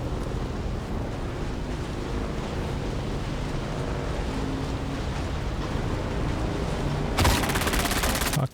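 Sustained gunfire in the Dune Awakening video game during a raid on Sentinel City in iron gear, a steady loud rattle of shots running throughout, ending with a sharper, brighter burst near the end.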